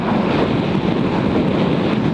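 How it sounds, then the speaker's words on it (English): Strong wind buffets the microphone with a dense, continuous low roar and rumble that stays loud and steady throughout, with no voices over it. "Oh man, it's so windy."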